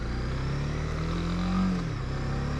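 A Honda CB300R motorcycle engine droning loud and close while riding, with a steady drone that swells briefly in a small rev mid-way, over constant wind and road noise.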